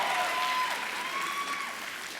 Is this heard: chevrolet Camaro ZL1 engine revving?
no